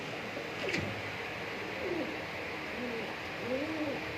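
Breeder pigeons coo in soft, repeated bursts at low volume, several rounded calls spread across a few seconds over a quiet background hiss.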